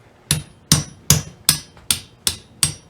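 Seven sharp, evenly spaced metallic hammer blows drive a tapered drift through a rivet hole. Each strike rings briefly and decays before the next, close and loud with no talking.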